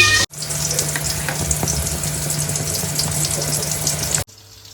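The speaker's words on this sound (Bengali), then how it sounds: "পেঁয়াজ ভাজছি" Onions frying in a pan give off a steady, loud sizzle with crackling spits. The sound runs for about four seconds, then cuts off abruptly to quiet room noise. No one talks over it.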